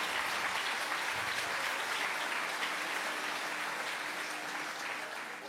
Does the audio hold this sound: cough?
no